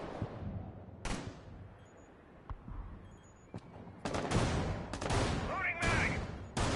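Gunfire in a Rainbow Six Siege match caught in an audio glitch that makes someone seem to shoot endlessly: repeated loud bursts of automatic fire break in over a quieter background, with a voice talking briefly among the shots.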